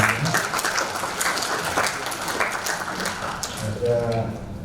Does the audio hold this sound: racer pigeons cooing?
no